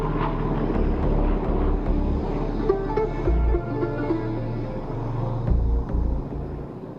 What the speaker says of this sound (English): The Douglas DC-3 and its military variant C-47 selected by the Indian Air Force is powered by 2 Pratt & Whitney piston engines